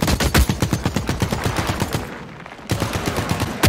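Rapid automatic gunfire in the shooter game The Cycle: Frontier, loud close bursts of evenly spaced shots, a brief pause, then firing resumes.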